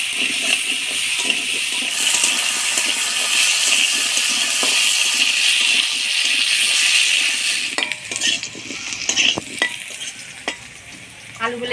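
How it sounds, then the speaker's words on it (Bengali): Potatoes frying in hot oil with turmeric and salt give a steady loud sizzle, with occasional stirring and scraping of a utensil against the pan toward the end. "এই তেলের মধ্যে অল্প হলুদ লবণ দিয়ে আলুগুলা ভাজে নিব।"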